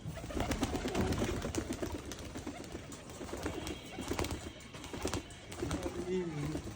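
Giribaz pigeons coo softly at a pigeon farm, their low calls mixed with wing flutters and shuffling as people talk nearby.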